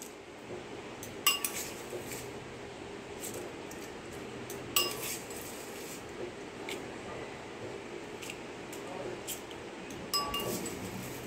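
A spoon mixes curry leaf tarka into soaked oats in a bowl, giving soft squishy stirring with a few sharp clinks of metal against the dish, close and fairly quiet over a faint steady hum.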